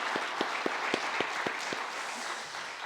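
A church congregation applauds during a Holy Week service, starting with several loud, evenly spaced claps that fade into softer scattered clapping toward the end.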